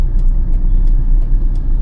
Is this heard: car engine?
yes